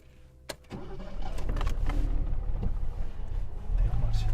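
A Mercedes car engine catches on a single crank after a brief starter whir, then settles into a steady, slightly rough idle close by.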